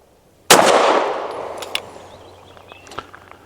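A single loud, close shot from a Tisas PX 9 Duty Comp compensated 9mm pistol firing hot ammunition, sharp crack followed by a long ringing decay, with faint clinks afterward.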